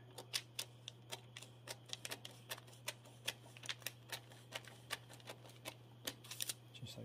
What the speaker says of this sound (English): simple pair of scissors